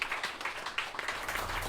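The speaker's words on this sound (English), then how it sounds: "So huge round of applause to all those people that are out there." An audience at an evening talk on shark movement claps, a dense patter of applause lasting under two seconds without voices.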